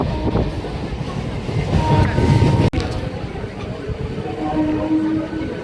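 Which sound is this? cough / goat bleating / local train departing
local train departing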